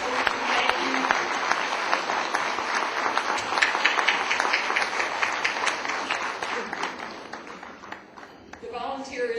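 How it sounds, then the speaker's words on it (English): Loud, sustained audience applause at an annual community celebration honoring an Asian American council, dense clapping filling the room and tapering slightly near the end as a voice begins to come through. "I really think that we owe Mr. Lim and the Asian American Council a round of applause for that"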